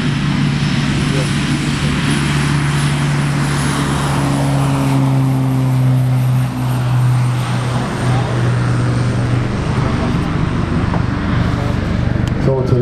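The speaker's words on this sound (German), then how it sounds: "soeben ist unsere Pilatus Porta wieder gestartet" A Pilatus PC-6 Turbo Porter turboprop engine drones steadily and loudly throughout during takeoff at an airfield, its low hum shifting in pitch as the aircraft gathers speed.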